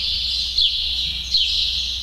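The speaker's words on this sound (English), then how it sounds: "Those birds are really noisy today, huh?" Outdoor birds chirp noisily with two sharp, bright calls rising out of a continuous high twittering chorus, fairly loud, over a low steady hum at a dog arena.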